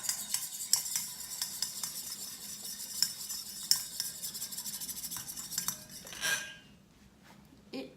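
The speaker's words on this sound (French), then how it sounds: "On remélange un peu le tout." A homemade Aroma Zone cosmetic preparation being stirred, quiet scraping and clinking of a utensil against a container in uneven strokes, close, that stops near the end.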